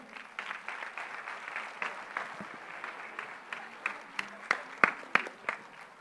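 An audience at a school annual day claps steadily, a mid-sized crowd applauding with scattered sharper individual claps standing out as it goes on.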